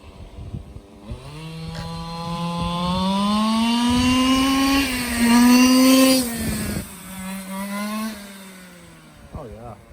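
A 1/5 scale Losi DBXL RC car with a 2-stroke engine on 25:1 fuel mix revs up, its buzzing whine climbing and holding close, then dropping and rising again as a voice talks nearby.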